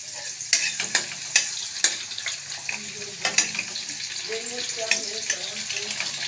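Chopped onion frying in hot oil for chow mein, a steady broad sizzle punctuated by several sharp spatula clicks and scrapes against the pan.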